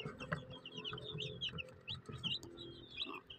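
Chicken chicks chirping, rapid high peeps scattered quick and close, with a few lower clucks from an adult hen mixed in at quiet level.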